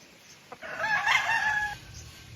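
A rooster gives a single loud, drawn-out crow close by, rising and then trailing off over about a second against a quiet background.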